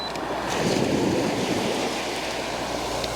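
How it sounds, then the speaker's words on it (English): Sea water rushing back and splashing off rock on the shore at Happisburgh, a loud continuous whooshing surge that swells and recedes, with wind buffeting the microphone. "we get the water rushing back, splashing off the rock"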